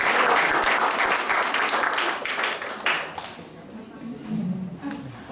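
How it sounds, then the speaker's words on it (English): Audience at an evening event applauds a speaker introduced to give the opening address; dense, steady clapping fills the room, then thins and fades over the last couple of seconds. "So please give a round of applause to Ms. Hương Ngô."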